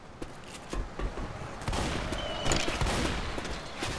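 Gunfire aimed at zombies in the video game Left 4 Dead 2: dense, overlapping shots blur into a continuous noisy barrage that builds louder partway through.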